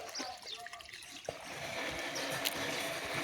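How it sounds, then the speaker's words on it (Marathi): Water trickles and splashes onto a freshly levelled murum platform on a farm, a continuous close wash of flowing water with a few soft knocks at the start. "जागेवर पाणी गिरते बघा"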